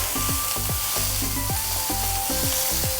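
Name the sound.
prawns sizzling and browning in a pan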